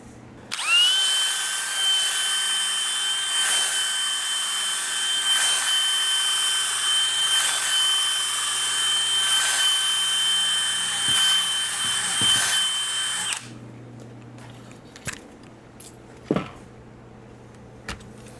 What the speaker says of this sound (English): So I'm going to start with a brass brush.